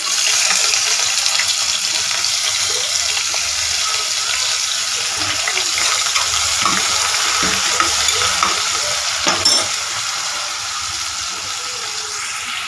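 Cinnamon, cloves, bay leaf and fennel seeds fry in a pan for chicken salna, a steady close sizzle with scraping stirs and light clinks throughout, no talking.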